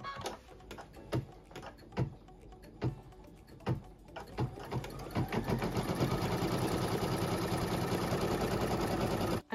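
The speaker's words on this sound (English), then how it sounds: "And then we're going to stitch our batting placement line." A sewing machine stitches a batting placement line on a quilt block, first with a few spaced single clicks and short bursts, then running continuously with a steady, fast, rattling hum until it stops.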